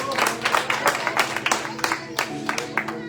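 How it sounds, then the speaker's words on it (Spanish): A church congregation claps in uneven bursts, several people applauding close by, with voices murmuring underneath. "Denle un aplauso al Señor"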